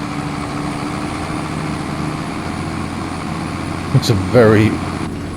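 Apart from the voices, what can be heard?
tractor engine in video game Farming Simulator 25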